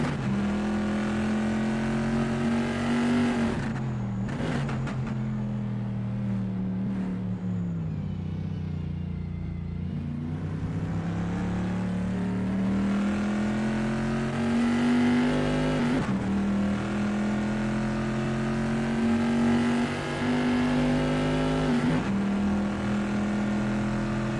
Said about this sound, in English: Narwhal is expertly commanding that car through Piratelli